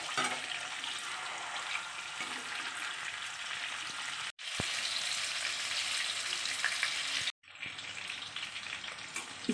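King fish pieces fry in a pan over a low flame, a steady crackling sizzle that holds evenly, broken by two brief sharp cuts to near silence.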